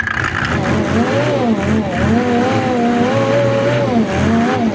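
A small motor pump engine for irrigation runs loud and steady, its pitch rising and falling as it is revved up and eased back repeatedly.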